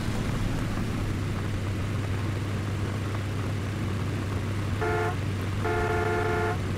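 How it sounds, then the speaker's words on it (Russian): Vehicle horn in the video game RAGE 2 honks twice over a steady engine drone, a short toot followed by a longer blast; no talk. "Ладно, гудеть тоже можно."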